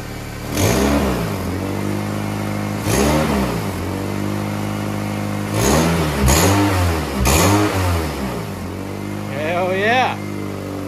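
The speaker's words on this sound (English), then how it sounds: "we've assessed that the car runs pretty good now" A Honda Civic engine idles and revs hard in about five loud, rising-and-falling bursts, close by, with a voice briefly audible near the end.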